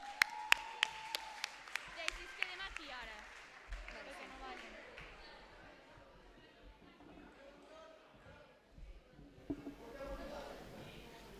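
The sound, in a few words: audience applause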